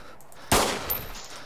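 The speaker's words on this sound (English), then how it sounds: "That is a loud gun." A single loud gunshot from a firearm in the DayZ video game, a sharp close crack with a short decaying tail.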